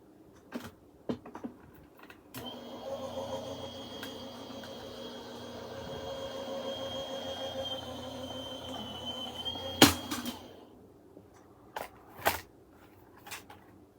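Die cutting machine running Anna Griffin purse dies through paper for a box scene purse: a steady mechanical rolling hum lasting several seconds, ending with a sharp clunk and a few scattered knocks afterward.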